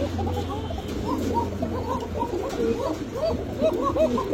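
Breeding pairs of fancy pigeons, including Pakistani teddy, Kamargar, Budapest, Damascene and racer breeds, coo in a steady overlapping chorus of soft, rolling calls close by, with low background hum throughout.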